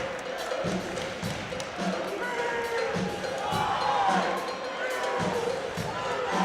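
Packed gym crowd at an NCAA men's volleyball match between Loyola and BYU, a steady roar of cheering and chatter with sharp ball slaps and thuds cutting through, loud and continuous throughout.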